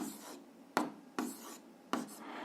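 Pen writing on paper during a fifth-grade maths exercise: four brisk scratchy strokes in a steady rhythm, close and fairly quiet, with no one talking.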